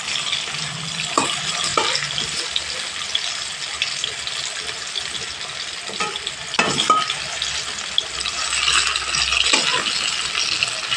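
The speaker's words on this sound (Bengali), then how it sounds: "আর একটু একটু উল্টে উল্টে ভেজে নেবো" Steady crackling sizzle of small new potatoes frying in hot oil, with occasional stirring scrapes and clinks throughout.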